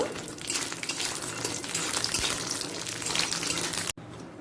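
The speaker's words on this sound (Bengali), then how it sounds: "তেলটা গরম হয়ে গেছে বড়িগুলোকে লাল করে ভেজে নেব" Lentil dumplings (bori) fry in hot mustard oil with a dense, continuous sizzle and crackle, loud and close, then cut off abruptly near the end.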